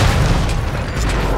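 Enemy tower collapsing in Smite, a loud, dense booming rumble of crumbling destruction that holds steady through the whole moment, with no voices.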